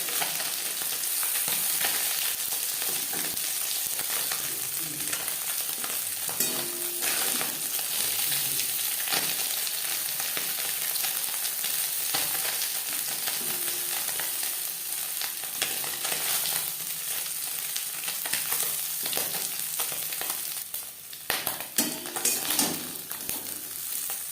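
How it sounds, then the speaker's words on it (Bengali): Small puti fish frying in oil in a pan, giving a steady loud sizzle and crackle that runs throughout, with brief scraping stirs and a few sharper spatters near the end. "মাছ আমার ভাজা হয়ে গেছে একটা সাইড ভাজা হয়ে গেলে অপর সাইডটা উল্টে দেবে"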